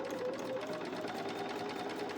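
A sewing machine stitches a candle rug jar gripper with a continuous, even, rapid needle rhythm, close and steady for the whole stretch.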